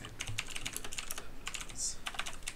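Rapid, close clicking of keys on a computer keyboard, a continuous uneven patter of light taps with no voices.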